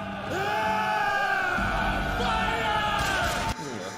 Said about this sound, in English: And all that screaming.